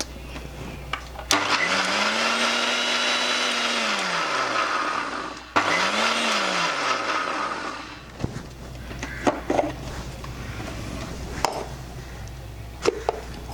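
A blender grinds boiled green grapes for chutney in two loud bursts, its motor whining up and dropping off each time, followed by quieter clatters and taps.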